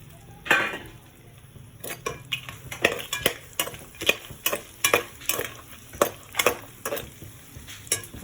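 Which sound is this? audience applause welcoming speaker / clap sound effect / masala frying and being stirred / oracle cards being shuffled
masala frying and being stirred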